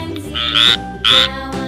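A frog croaks loudly a few times in bursts, with a steady musical backing underneath.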